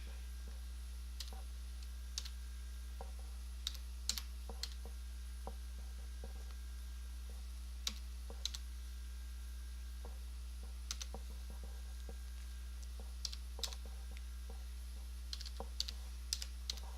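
Scattered keystrokes on a computer keyboard while entering a Windows 8.1 product key, faint irregular clicks in small clusters with pauses between, over a steady low electrical hum.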